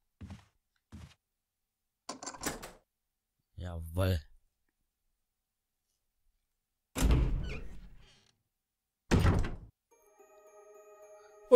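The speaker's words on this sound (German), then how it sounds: "wir gehen jetzt erst durch diese Türe hier" A door opening in the video game Resident Evil HD Remaster, heard as a few separate thuds and clicks with a longer heavy creak and clunk. Someone speaks briefly in between.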